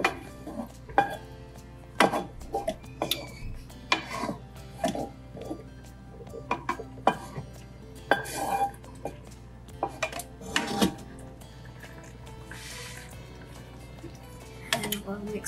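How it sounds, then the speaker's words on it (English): Browned meat added to tomato sauce in a pot for lasagna, with scattered clanks of a utensil against metal and scraping stirs, intermittent and close, while a person talks. "we're gonna go ahead and just add our meat to our sauce"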